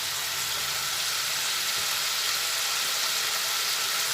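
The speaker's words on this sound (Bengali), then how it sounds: "ভালোভাবে আবার একটু নাড়াচাড়া করে ভেজে নিচ্ছি যাতে মশলার কোনো রকম কাঁচা গন্ধটা না বেরোয়" Spices are stirred and fried in a pan, producing a loud, steady, hissing sizzle that fills the whole stretch close up, without any talking.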